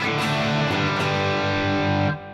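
An electric guitar played through an amp on a cleaner channel setting, a sustained chord ringing loud and steady for about two seconds before it is cut off, with no talking.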